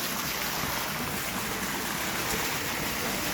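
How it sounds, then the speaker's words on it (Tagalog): A swimming pool fountain on a second floor runs with a steady, continuous rush and splash of falling water, close and even throughout. "Oh, gumagana na yung fountain"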